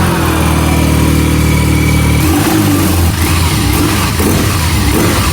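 A 2023 BMW R90 100-years-anniversary motorcycle engine, idling with a deep steady throb before being revved up into a louder, rising roar, close and continuous.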